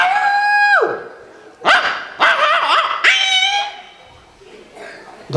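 A human voice imitates a small puppy barking at a cultural stage program, giving a few high, whiny yips and short bark bursts separated by brief pauses, loud and close.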